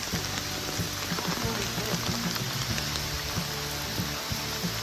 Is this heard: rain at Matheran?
yes